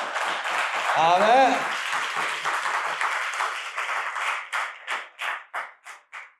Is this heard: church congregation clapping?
yes